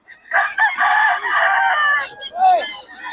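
A rooster, a young stag gamecock, crows loudly and close by, one long drawn-out call that drops off near the end, followed by a shorter rising cluck.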